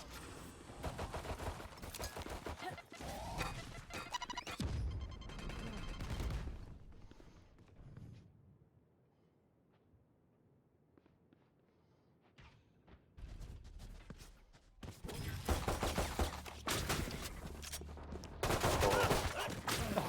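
Classic pistol right-click shots in Valorant during a competitive pistol round, clustered sharp bursts of gunfire at start and end with a quiet lull between, under excited esports commentary.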